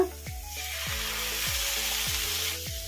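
Finely chopped medium tomato tipped into cabbage frying in a pan for masala bread toast, giving a steady loud sizzle with a few scraping stirs of a spoon against the pan.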